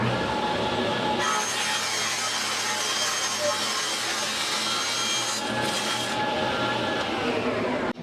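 A bandsaw cuts through the side of a wooden drum shell, a continuous loud rasping whine that runs for several seconds, with a brief dip partway through before the cut finishes.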